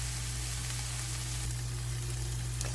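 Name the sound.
sliced garlic, bay leaf and rosemary sizzling in a pan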